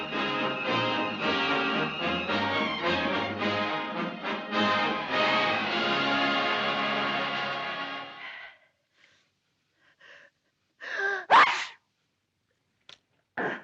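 Music plays and fades, then a single sharp sneeze bursts out nearby against near silence, with a few faint small sounds around it.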